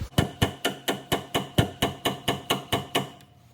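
Hammer blows ring out on a punch and chisel driven against a BPW trailer axle part, about twelve sharp metallic strikes at an even, quick rhythm, close and loud, before a brief quiet end.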